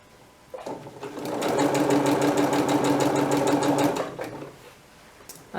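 Sewing machine running slowly on a straight dress, a steady mechanical whir with fine rhythmic stitching ticks that rises, holds for a few seconds and winds down, close and alone.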